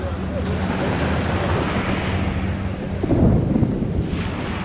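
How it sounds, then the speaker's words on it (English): A low, heavy rumble of thunder from a lightning storm over a bay near Ao Nang, Thailand, rolls under steady rushing wind and rain, swelling briefly louder partway through. "And huge claps of thunder."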